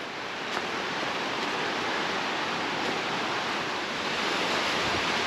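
Fast-flowing creek water rushing steadily below Glen Falls, a continuous broadband roar that stays close and constant, with no voices over it.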